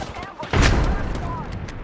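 A burst of gunfire in the battle royale game Apex Legends erupts midway, a loud booming shot layered over continuous game ambience and effects.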